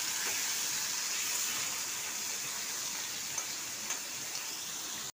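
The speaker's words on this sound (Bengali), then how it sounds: "এবার তেল গরম হয়ে গেছে, এগুলো আমি এবার ভেজে নেব।" Prawns fry all together in hot oil for a curry, giving a steady, even sizzling hiss close up, with a few faint ticks and no talking.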